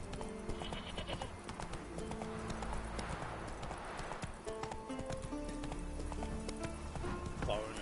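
Roach, Geralt's horse in The Witcher 3, gallops with rapid rhythmic hoofbeats and a short whinny over game ambience, while a voice speaks briefly.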